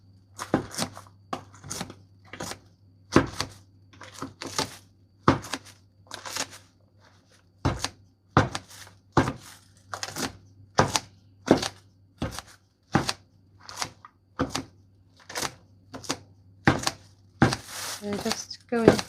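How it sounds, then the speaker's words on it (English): Knife chopping salad inside a bowl, a steady run of sharp, close, evenly spaced chops for nearly twenty seconds, with a low steady hum underneath. "just going through and chopping my salad further"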